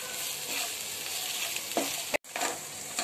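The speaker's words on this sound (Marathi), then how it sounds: "काप कापलेला कांदा आणि शिमला मिरची टाकूया" Sliced onion and capsicum sautéing in a hot pan for a Manchurian gravy made from leftover rice, giving a steady close sizzle with stirring scrapes and a brief pause partway through.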